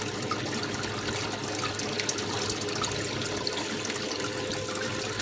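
Water pours steadily and loudly through a gold sluice box outdoors, a constant rushing wash that holds an even level throughout, with no voices over it.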